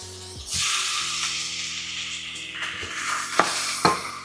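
Pork belly hits a hot pan of sautéed shallot and garlic with a sudden loud hiss, the sizzle holding steady with scraping stirs and a couple of sharp utensil knocks near the end.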